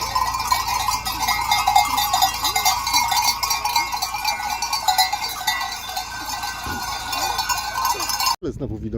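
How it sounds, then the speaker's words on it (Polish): Faint sheep bleat in the distance amid a steady clanking of cowbells on Ios in the Cyclades, with a brief dropout near the end. "A gdzieś w oddali cały czas te barany słychać."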